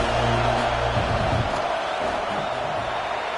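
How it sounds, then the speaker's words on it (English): Stadium crowd at a Michigan vs Indiana football game roaring as the kicker lines up a field goal, a loud sustained wash of voices and noise, near and filling the space. "This crowd trying to do its part to get inside the kicker's head."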